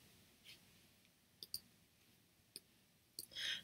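A computer mouse clicks crisply several times while working in Cricut Design Space, giving soft, close, isolated taps spread irregularly over a quiet room background.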